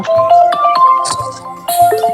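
A loud, close phone ringtone plays a quick electronic melody of bright repeating tones.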